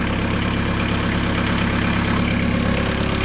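A Volkswagen T4 van engine, with a hole in the engine and exhaust needing repair, idles steadily with an even, low mechanical throb and no other sounds.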